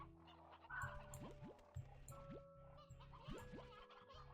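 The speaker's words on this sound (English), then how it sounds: "Nope, just an awful lot of roosters." Roosters in the Slime Rancher 2 video game cluck and squawk repeatedly, several birds calling over one another in quick overlapping bursts, moderately loud with no talking.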